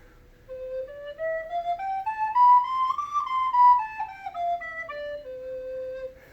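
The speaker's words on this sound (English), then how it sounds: "All right, so that's the Blockflöte, or the recorder." A recorder (Blockflöte) plays a slow ascending run of pure, breathy notes that peaks and then descends stepwise. The instrument sounds solo and moderately soft, with no voices.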